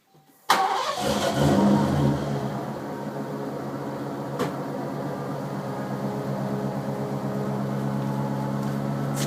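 A 1989 Lincoln Town Car Signature Series with Flowmaster Super 44 mufflers and Impala tailpipes fires up with a sudden loud crank and catch, then settles into a steady, deep, close idle rumble.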